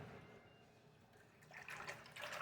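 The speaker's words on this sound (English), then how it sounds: "I just shake the water around a little bit to make sure it dissolves" Water sloshes and swirls in a sink as Epsom salt is stirred in to dissolve for a bath, a soft, close watery churning that grows slightly louder toward the end.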